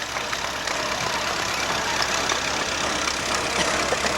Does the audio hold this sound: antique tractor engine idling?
yes